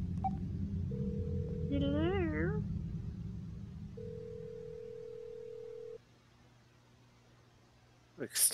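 Electronic telephone dialing tones inside the horror video game Dark Fracture: a steady tone runs for about a second, then several rising warbling beeps and a longer held tone, moderately loud over a low hum.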